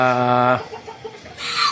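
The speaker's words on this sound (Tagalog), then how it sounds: "Ayan po yung ating mga manok na maliliit." Small chickens (young chicks) cluck and peep close by in short bursts, with a brief harmonic call at the start and soft chirps afterward, in a garden setting.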